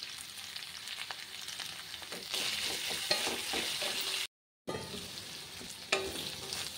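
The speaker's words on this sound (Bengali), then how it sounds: "তারপরে পটলটা দিয়ে দেবো, বেশ লাল করে ভেজে নেবো একদম" Pointed gourd frying in hot oil with black cumin, a steady crackling sizzle with occasional stirring scrapes, close and soft, briefly cut to silence before resuming.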